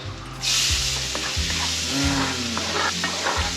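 Chopped onions hit a hot pan and start sizzling loudly, a sudden bright hiss that keeps going with stirring and scraping, close up, over a low rumbling hum in the background.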